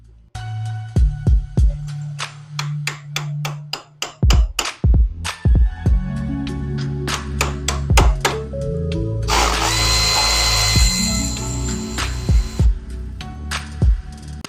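A power tool loosening bolts on a '97 Evo engine during a rebuild, giving repeated short ratcheting bursts with pauses between them, then one longer sustained whine, loud and close.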